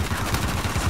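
Rapid gunfire from Uncharted: The Lost Legacy fills the whole moment as a dense, continuous burst of shots, loud and close with no pause.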